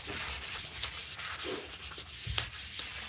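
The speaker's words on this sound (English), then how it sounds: "get the blade and just give it a quick little scrape off" A decorator's blade scrapes quickly across a surface, producing a series of close, dry rasping strokes with short pauses between them and no talking.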